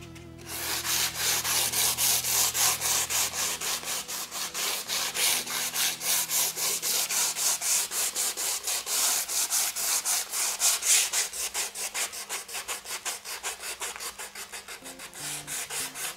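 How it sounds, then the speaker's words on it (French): Hand sanding of cured epoxy with 240 grit sandpaper gives a close, steady rhythmic rasp of quick back-and-forth strokes, continuous and fairly loud, with no speech. "Et on va poncer tant qu'on n'a pas de la poussière rose."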